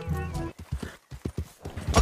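Horse hooves in the video game Red Dead Online clop in a quick, uneven run of beats. A short voiced or whinny-like sound comes just before them, and the whole passage is moderately loud.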